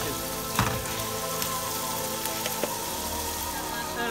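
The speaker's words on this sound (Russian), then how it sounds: "Пожарилось мясо." Meat fries in a pan for mastava soup with a dense, even sizzle that fills the background, nearby and constant, broken by a couple of sharp clacks.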